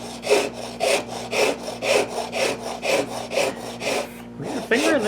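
A rasp files a pinewood derby car, making rhythmic back-and-forth scraping strokes, about two per second, loud and close, with a brief pause near the end.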